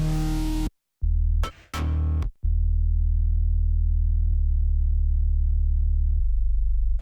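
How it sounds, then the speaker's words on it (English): An enormous synth sub bass drones deep and loud, cutting out briefly a couple of times, with short bright glitchy bursts in the gaps before the heavy low tone resumes and holds steadily. "This is an enormous sub bass."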